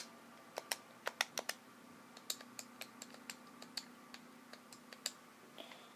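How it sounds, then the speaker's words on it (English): Keyboard typing entering a Grand Theft Auto: Vice City cheat code: a string of quiet, crisp key clicks in irregular bursts over a faint steady hum, with no voices. "I must type in the password again."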